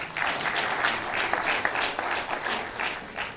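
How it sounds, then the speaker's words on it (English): Conference crowd at OAUTekConf 2024 clapping for themselves, a full, even burst of many hands that holds strongly across the whole stretch without any voices on top. "I think you should clap for yourselves."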